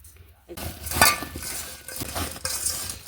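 Salt is worked into bogori jujube fruit in a bowl for pickle, with soft clinks and stirring rustles close by, amid low background noise.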